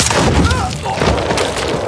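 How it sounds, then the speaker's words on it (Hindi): A quick burst of gunfire, several sharp cracks and booms over a loud, dense background with a voice mixed in. "गोली चलाना बंद करो बेवकूफ"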